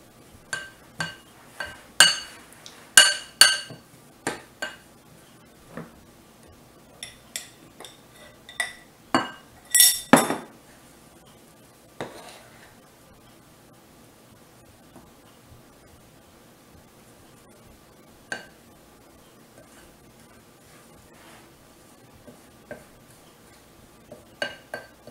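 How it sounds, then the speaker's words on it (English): A utensil clinks and scrapes against a bowl while butter is stirred and blended for old-fashioned shortbread cookies. Sharp, close clinks come in quick bursts over the first ten seconds, then thin out to a few scattered taps in a quiet room. "Blending it in there. Just stirring it and blending it."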